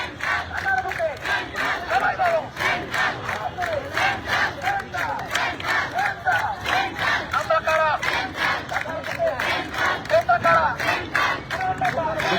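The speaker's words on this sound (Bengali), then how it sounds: "সেন্ট্রাল বলে কিন্তু তারা স্লোগান দিচ্ছে" Students protesting over an ordinance at Dhaka's education building chant slogans together, a loud crowd repeating rhythmic call-and-response phrases in steady pulses, close and continuous throughout.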